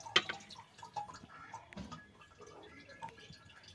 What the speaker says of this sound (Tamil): இது அவ்வளோதான், தண்ணியெல்லாம் கீழே போயிடும்.